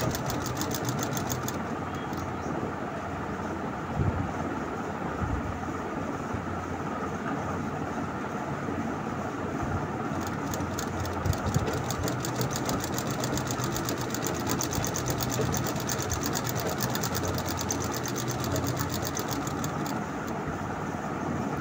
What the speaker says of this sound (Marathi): स्टिचिंग मी कशा पद्धतीने करत आहे तुम्ही पाहू शकता.